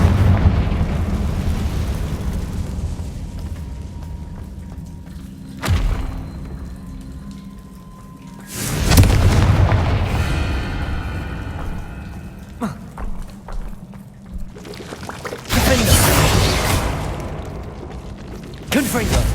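Confringo fire-spell blasts in Hogwarts Legacy land as several loud, booming explosions with rumbling tails, spaced apart by quieter ambience and a character's voice.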